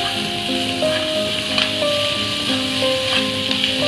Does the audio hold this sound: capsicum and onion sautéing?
yes